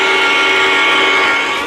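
A train's steady, sustained rumble and tonal horn-like whine fill the scene at close range, loud and continuous with no talk over it, slowly easing off at the end.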